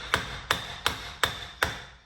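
A hammer taps five times on the CV axle of a Mercedes-Benz GL, sharp metallic strikes at an even, unhurried rhythm, close up and with no one speaking.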